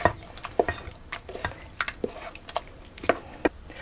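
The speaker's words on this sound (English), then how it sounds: "Our next step is to mix everything together in the bowl" Corn casserole mixture with sour cream is stirred in a bowl, giving irregular wet squishing and scraping strokes at close range, with no voices.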